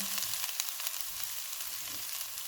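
Mashed boiled potato filling for bread samosa frying in a pan gives a steady, soft sizzle with faint stirring scrapes, close and continuous, with no talk.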